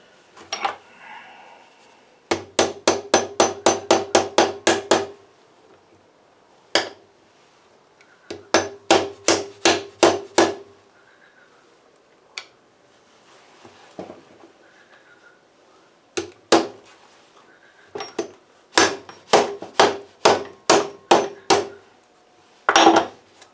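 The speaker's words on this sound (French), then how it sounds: "Celui-là, on a le choix que d'y aller au marteau." Repair work on a 2009 DT 50 motorcycle, with a hammer striking a metal part in loud, rapid bursts of evenly spaced blows. Several volleys are separated by pauses that hold scattered single knocks and faint handling noise.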